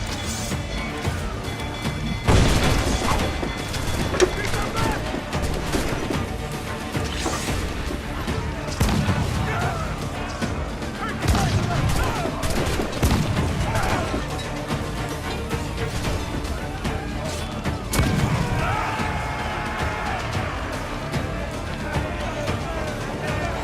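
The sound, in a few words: ship cannon fire in naval battle, Assassin's Creed IV video game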